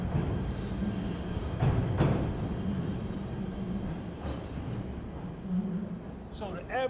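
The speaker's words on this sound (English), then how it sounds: "our train coming right there" A train rumbles past with a steady low roar, a brief rising horn and squealing wheels near the end, heard from a city street with people talking nearby.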